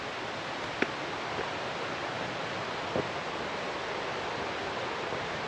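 A creek flows beside a wooded hiking trail on the way to Devil's Bathtub, giving a steady, even rush of water with a couple of faint clicks over it and no voices.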